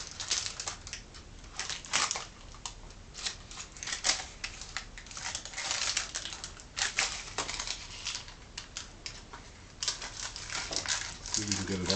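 Wax paper stuck to food after a 13-hour dehydrator run is pulled and peeled away, giving close, dense crinkling and tearing crackles in irregular bursts throughout, with a person speaking over it.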